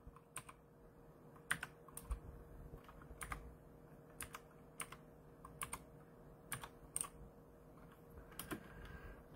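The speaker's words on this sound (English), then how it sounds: "And I would type in Starforce." Quiet typing on a computer keyboard, with irregular bursts of crisp key clicks and occasional louder taps over faint room hum.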